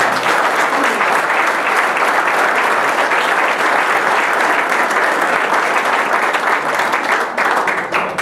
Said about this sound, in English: let's give a rousing applause